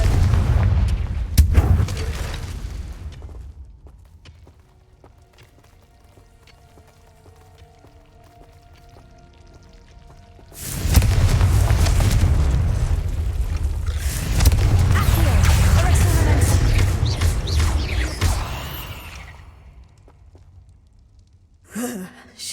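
Loud booming blasts of the Confringo fire spell in Hogwarts Legacy, a sustained burst of explosive rumble after a quieter stretch, with voices heard around it.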